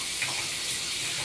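Water runs steadily while shampoo is rinsed out of hair, giving a brief, even hiss of streaming water with no voices.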